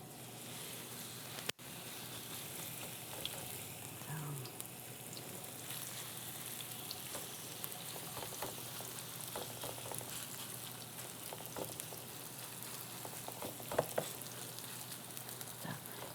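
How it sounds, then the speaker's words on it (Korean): Chive pancake batter frying in a hot oiled pan for holiday jeon, giving a steady close crackling sizzle throughout with a few sharper pops and spatters. "약간 기름 소리가 날 수 있도록 달군 다음에"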